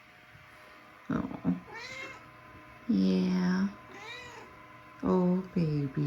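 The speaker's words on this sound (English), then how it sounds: "She's our little three-legged kitty" A three-legged female cat meows close by in a home, giving several distinct, drawn-out meows with short pauses between them, alongside a brief spoken word.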